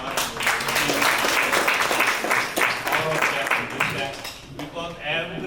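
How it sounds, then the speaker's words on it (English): Audience clapping for singers at an interfaith gala on Long Island, a warm burst of applause from a large room that tapers toward the end, with voices mixed in. "give a big round of applause for the singers before us"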